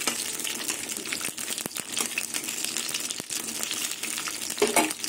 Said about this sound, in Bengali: আর তেলে জলেই পটলটা ভাজাও হবে